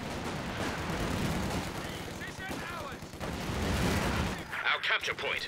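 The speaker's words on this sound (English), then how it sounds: "Launches the rifle grenade to win the engagement." Gunfire and a rifle grenade from the real-time strategy game Company of Heroes 2: bursts of rifle and machine-gun fire with a few sharper blasts, busy and fairly loud, under a commentator talking.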